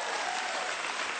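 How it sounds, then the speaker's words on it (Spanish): Studio audience applause on a Spanish-language talk show during an interview, a brief, dense and even burst of clapping from many people, with no talk over it. "Gracias por los aplausos."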